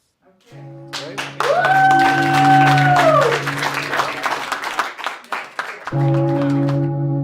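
Light, scattered clapping at a live mock funeral event for Star Wars, a handful of hands patting unevenly over a droning tone and a brief rising synth sweep.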